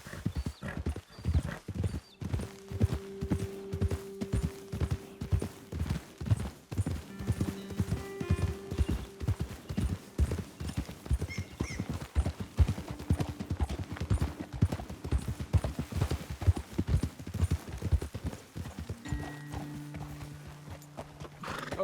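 Horses ridden at a walk and trot in the video game Red Dead Redemption 2, with continuous rhythmic clip-clop hoofbeats close by and occasional whinnies and snorts over quiet outdoor ambience.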